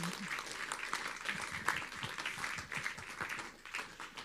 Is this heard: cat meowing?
no